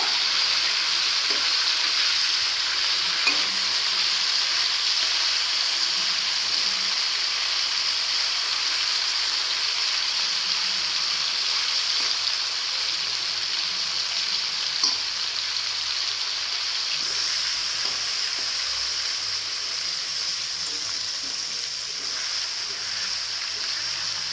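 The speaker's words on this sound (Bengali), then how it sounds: "আমি চিলি চিকেনে মাংস ভেজে নিচ্ছি। হালকা করে ভাজবো।" Chicken pieces for chili chicken shallow-fry gently in a pan, a continuous even sizzle and crackle lasting the whole stretch, with faint occasional ticks and no voices.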